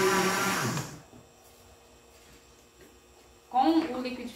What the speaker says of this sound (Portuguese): Com o liquidificador ligado